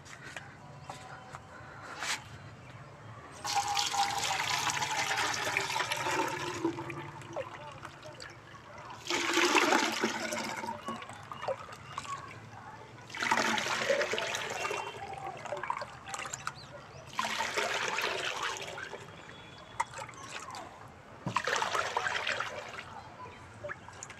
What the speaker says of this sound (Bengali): দেখুন আমি ছেঁকে নিচ্ছি